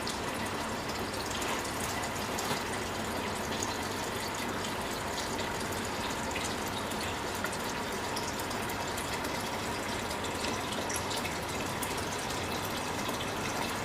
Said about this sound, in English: Now start to see the diesel is coming in.